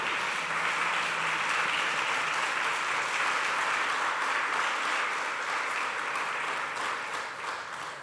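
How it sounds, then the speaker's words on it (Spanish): A church congregation claps together in praise during a sermon, a broad, sustained burst of many hands at steady strength that tapers slightly at the close, with no voices over it. "Denle un aplauso al Señor."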